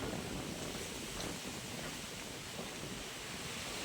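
Strong typhoon wind during a storm, a dense, steady roar of rushing air and buffeting noise filling the whole moment without letup, loud and close with no voices present.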